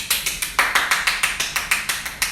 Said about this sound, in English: I'm gonna give y'all a round of applause.